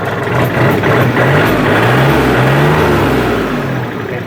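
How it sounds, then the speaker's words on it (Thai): A used three-cylinder four-wheel-drive tractor fitted with an aftermarket exhaust pipe runs loud and close, its engine chugging and revving with a deep rumble and no talk over it. "เดี๋ยวสตาร์ทให้ฟังเสียงนะครับ"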